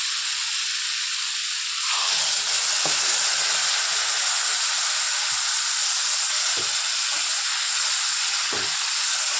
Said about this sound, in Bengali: আমি সবজিটা বেশি কষলাম না, তিতো হয়ে যাওয়ার ভয়ে, কিন্তু কষে নিয়েছি আমি